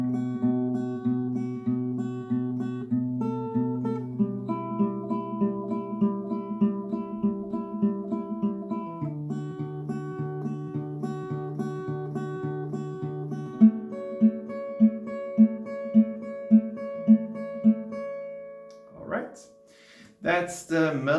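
An acoustic guitar plays the melody of a song, moderately loud single-note lines over low bass notes in a steady rhythm, ending with a few sharp plucks and a short strum.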